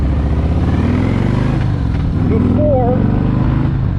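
A 2018 Harley-Davidson Street Glide Special with a Milwaukee-Eight 107 cubic inch engine and Tab Performance exhaust, a loud steady rumbling idle up close, with someone talking over it.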